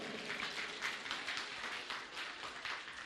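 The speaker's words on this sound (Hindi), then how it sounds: "जोर की तालियां होनी चाहिए।" Loud, dense applause from a crowd at a sangeet wedding ceremony, continuous clapping sustained throughout without pause.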